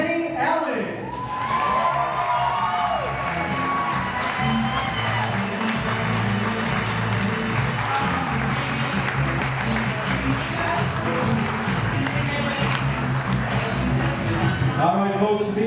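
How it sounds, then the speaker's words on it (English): Wedding guests applaud and cheer for the groom's parents as they are introduced at the reception. Sustained, dense clapping and crowd noise run throughout, mixed with voices and music-like tones. "a big round of applause for parents of the groom, Carrie and Kenny Allen"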